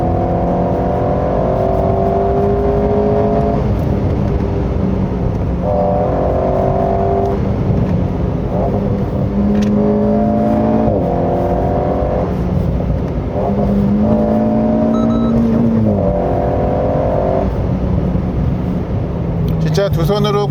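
A steady mid-engine Renault Alpine A110 (2022) engine hum drones loudly throughout with gentle rises and falls in pitch as it revs on a winding road, and a voice talks over it.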